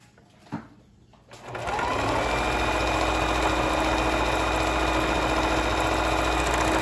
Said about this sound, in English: And we're going to straight stitch again.